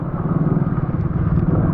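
The engine of a Yamaha R15 sports motorcycle ridden off-road thrums with a loud, steady pulsing rumble close by, heard alone without talk.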